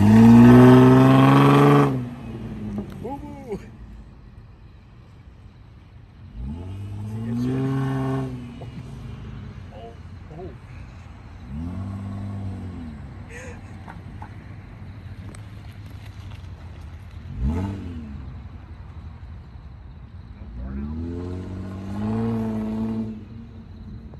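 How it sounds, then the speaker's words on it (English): Car revving and pulling away at night after a cruise, a loud engine burst at the start followed by several fainter passing engine swells at a distance. "We got Mr. Neil taking off for the night."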